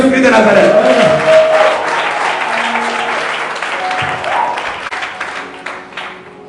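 A church congregation applauding in acclaim of Jesus Christ, loud sustained clapping and cheering that gradually thins and fades, with a voice heard over the start.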